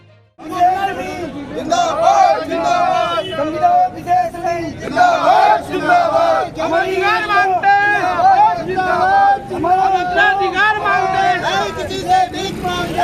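Crowd of passengers waiting at a roadways bus station in Haldwani during a contract staff strike, a dense babble of many voices and shouts filling the scene steadily throughout, close and loud.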